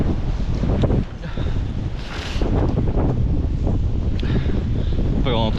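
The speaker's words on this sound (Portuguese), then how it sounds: "É quando dá rajada de vento." Strong wind gusts on a windy day in Russia buffet the microphone as a loud, continuous roaring rush with surging peaks, close and dominant throughout.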